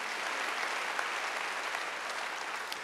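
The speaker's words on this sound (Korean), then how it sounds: "박수하나 들으세요." A church congregation at a Wednesday worship service applauds together, a steady dense wash of clapping heard from a distance that holds evenly throughout without a break.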